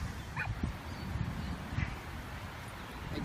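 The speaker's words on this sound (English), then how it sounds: "you have dogs in there too." Dogs bark and yip faintly in the background, a few short, scattered barks against low room noise with no clear talking.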